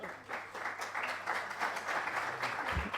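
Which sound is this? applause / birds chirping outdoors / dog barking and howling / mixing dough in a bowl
applause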